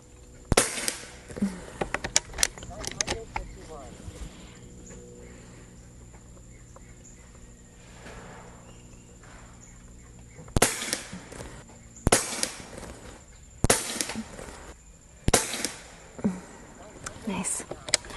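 A Umarex Gauntlet 2 .25 caliber airgun fires outdoors at 50 yards, with several sharp cracks in a cluster early on, then four more spaced cracks later, with quiet gaps and occasional talk.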